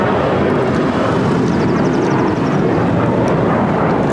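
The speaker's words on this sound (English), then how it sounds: "This is American Airlines 1292 taking off to Nashville on the 737-800." An American Airlines Boeing 737-800 takes off at LAX with a loud, sustained broadband engine roar that stays steady and close for the whole stretch, with no talking.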